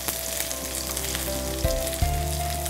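Chopped onions sauté in hot oil for beef vada, a steady, even frying hiss over a low hum, with two brief stirring knocks near the end.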